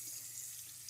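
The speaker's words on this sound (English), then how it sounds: "what I do is I usually wash off my aloe vera." Tap water runs steadily into a sink to rinse aloe vera leaves, a continuous close hiss of flowing water with no voices.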